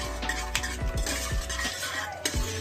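Food frying in a pan while a utensil stirs it, giving repeated metallic scrapes and clinks over a constant sizzle, close and fairly loud, with no talking.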